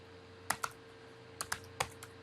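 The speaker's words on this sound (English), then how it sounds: "for the document subtitle, I'm going to type in Ethnic Eats" Computer keyboard typing, a few sharp close keystrokes in two small clusters, quiet and alone over a faint steady hum.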